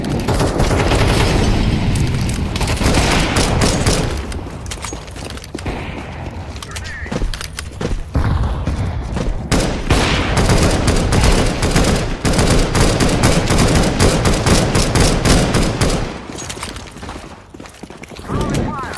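Counter-Strike 2 match with dense, loud gunfire, rapid bursts and single shots crackling almost continuously, a fire grenade thrown amid the chaos, and muffled thumps and movement between volleys.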